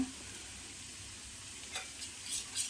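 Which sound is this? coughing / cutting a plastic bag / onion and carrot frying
onion and carrot frying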